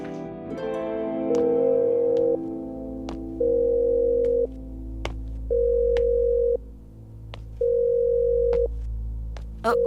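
A phone call rings out unanswered: repeated pulsed ringback tones in a steady on-off cadence, about four rings heard alone with no talking.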